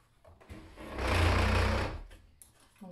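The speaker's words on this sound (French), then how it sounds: "Je reprends l'endroit où c'est ouvert et je vais coudre." A sewing machine stitches fabric for a washable paper towel in one smooth whirring burst of about a second, with quiet handling sounds before and after.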